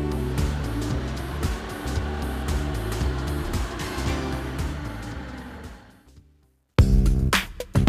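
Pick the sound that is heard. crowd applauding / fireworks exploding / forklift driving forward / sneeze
forklift driving forward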